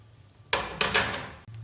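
Chopped onion and vegetables dropped into a hot pan with a sudden loud sizzling burst, followed by a couple of stirring scrapes as the hiss fades.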